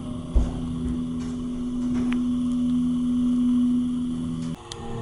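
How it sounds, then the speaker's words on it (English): An elevator motor runs inside the Omni La Mansion del Rio hotel, a steady close mechanical hum with a clear sustained tone that rises slightly, then drops as the motor slows near the end. "isn't that just a musical sounding motor?"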